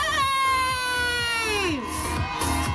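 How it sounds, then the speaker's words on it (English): A crowd of kids yells and cheers at a wrestling show outside the Kips Bay Boys and Girls Club in the Bronx, loud sustained shouting from many young voices as a wrestler makes his entrance. "you can hear from the crowd, these kids and this community loves Mr. James"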